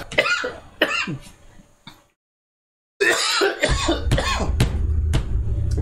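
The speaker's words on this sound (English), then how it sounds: "that move had me coughing." Several harsh, close coughs in quick bursts, a second of silence, then another run of loud coughing and throat-clearing sounds.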